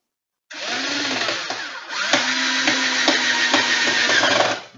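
A power drill or driver whirs as a screw is driven into wood under a router table, starting after a brief silence, then running steadily with a rising pitch and a few pauses and re-accelerations. It is close and fairly loud.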